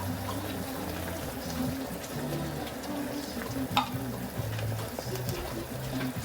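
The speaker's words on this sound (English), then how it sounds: "Let me add some of this gravy. Just mix it around and add that." Tinned mackerel in gravy stirred in a pot for a Jamaican dish, a steady soft scraping and sloshing with a low simmering sizzle running throughout, close and moderately loud.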